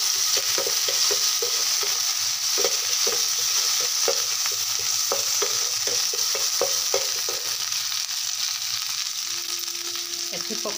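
Onions frying in a pan give off a steady bright sizzle with repeated soft scraping stirs, fairly close, and a brief tone near the end.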